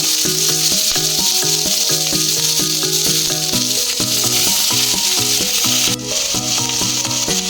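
Chopped onions with whole garam masala fry in white oil in a wok, a loud, continuous sizzle with rhythmic scraping and stirring strokes, no voices over it.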